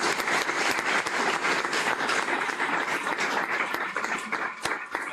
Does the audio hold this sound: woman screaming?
no